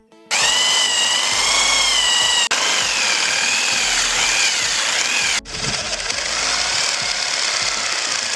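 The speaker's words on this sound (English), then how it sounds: "You should drill the holes as deep as possible." A power drill bores holes into a hard tree stump with a loud, continuous whine. The pitch sags and wavers under load, and the sound cuts out briefly twice before it resumes.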